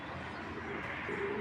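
Racing pigeon cooing softly and steadily, close by, with a faint low murmur of other birds behind.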